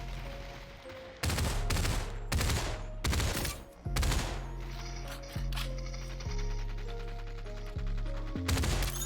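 Rapid bursts of gunfire from a gun in a Quest 2 VR shooter game fired through a ProTubeVR gunstock, loud volleys repeating in quick runs with short gaps, over a steady background music bed.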